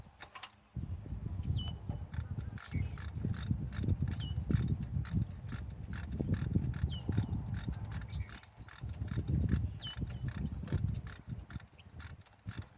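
Ratchet clicking in rapid, steady bursts while tightening the bolts on a Dana 60 front differential cover, close and fairly loud, with short pauses between runs of clicks.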